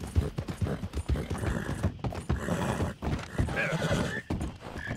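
A horse neighs and whinnies in Red Dead Redemption 2, spooked near an alligator, the cries loud and close and repeating in bursts over game ambience.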